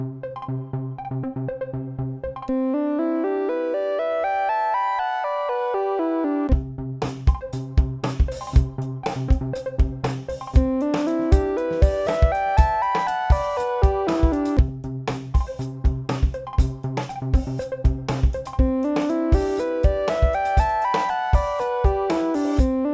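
An electronic loop plays alone on a Roland SPD-SX Pro pad, then cuts over to a second, busier loop on the same pad with sharp percussive hits and rising-falling melodic patterns, both repeating steadily.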